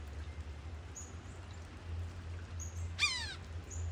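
Wild bird nicknamed Blue calling in the rain, one brief sharp descending call near the middle with a few faint high chirps around it, over a steady low rumble and soft rain hiss.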